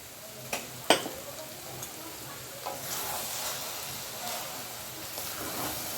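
Cabbage cooked with fish head sizzles steadily in a pan over raised heat, with a couple of sharp utensil clicks early on as the mixture is stirred.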